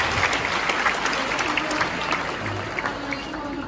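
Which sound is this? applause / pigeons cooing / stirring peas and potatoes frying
applause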